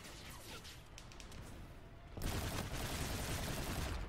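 UMP-45 submachine gun in COD: Infinite Warfare firing fast bursts, scattered shots at first, then a dense, loud stream of rapid fire in the second half, with no talking.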